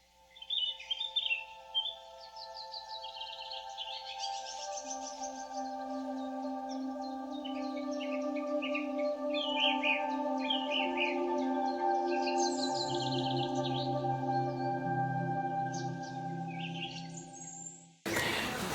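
Morning birdsong in Sittong, Darjeeling: varied chirps and trills ring out over a bed of sustained tonal drones for nearly twenty seconds, loud and continuous, with no voices, ending abruptly.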